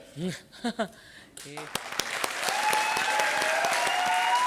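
A comedy show audience breaks into applause after a few spoken words, and the clapping swells into a loud, sustained ovation that carries on to the end.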